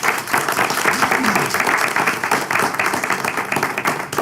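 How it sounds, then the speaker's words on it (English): A room of people at a port meeting applauding two long-serving staff members, sustained and even clapping from many hands throughout. "I'd like to give them a round of applause."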